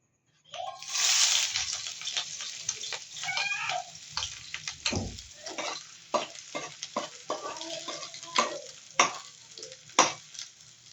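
Onions hit a hot pan for shrimp binagoongan with a sudden loud hiss, then settle into crackling frying punctuated by repeated scraping and stirring strokes.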